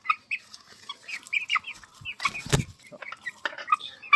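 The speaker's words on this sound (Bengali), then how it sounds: "দেখেন এই 3টা মোরগ আছে" Aseel roosters on a small farm give short, soft clucks in an irregular scatter of close calls, with a brief rustle or scuffle midway.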